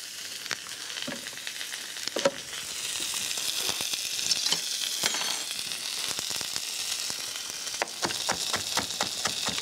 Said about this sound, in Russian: Рыба жарится.